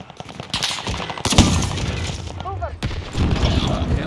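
Gunfire crackles through a video game shooter in several sharp bursts and single shots, loud and close, with speech mixed in among the shots.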